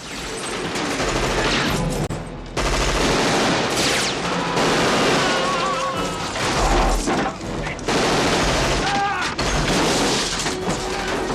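Gunfire from a 1990s action film scene, a dense, loud, continuous barrage of shots, booms and mechanical clatter with brief drops between bursts, set within a busy soundtrack mix.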